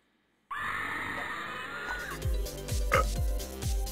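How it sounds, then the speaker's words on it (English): A woman lets out a sustained, loud scream of terror, shrill and drawn out, followed by low thumping beats and clattering game sounds from the dungeon adventure Epic Battle Fantasy 5. "That was my scream of terror."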